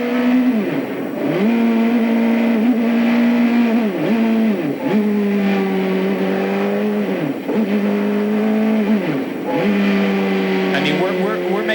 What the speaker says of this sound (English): it certainly sounds like it's missing a gear